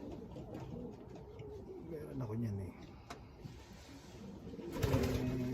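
Hybrid racing pigeons cooing inside a loft, soft repeated low coos close by under a man's speech, with a louder burst of cooing near the end.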